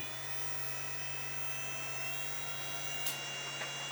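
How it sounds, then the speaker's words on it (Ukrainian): Cooling fans of a Flatpack S HE power supply running under load give a steady, even whir with a constant low hum beneath it, heard alone. "Включились вентилятори."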